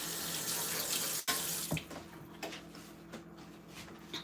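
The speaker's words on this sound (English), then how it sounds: "So I wash this spoon out." A kitchen tap runs hard over a spoon being rinsed while cooking bean hummus, then cuts off abruptly and gives way to drips, clinks and quiet handling sounds, with no talk.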